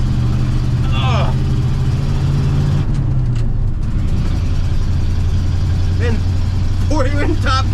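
An old car with four gears and drum-like pumped brakes cruises in top gear around 25 mph, a steady low engine drone and road rumble running throughout, with brief voices breaking in near the end.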